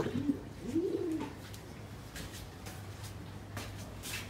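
Pigeons in a pigeon loft give a few soft, low coos in the first second or so, followed by quieter chirps and rustling against a steady low hum.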